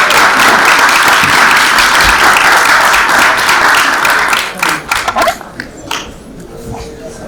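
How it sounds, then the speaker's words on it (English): A conference audience applauds loudly after a speaker introduces the Africa Finance Corporation chairman, with dense sustained clapping that thins out and fades into scattered claps. "please give a round of applause for"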